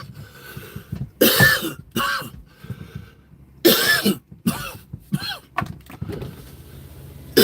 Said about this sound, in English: A lot of coughing tonight.